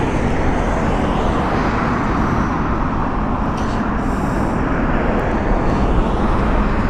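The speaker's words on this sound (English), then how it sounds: "So that just coming in was a 767 of Royal Brunei" A Royal Brunei Boeing 767 arriving at Heathrow, heard as a loud, continuous jet rumble and hiss that holds steady throughout, with no voices.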